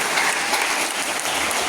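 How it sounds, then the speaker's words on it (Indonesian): An audience at a taekwondo rank promotion exam claps steadily for the examiner team, giving a dense, even burst of applause with no voices. "tepuk tangan dulu untuk Sabam"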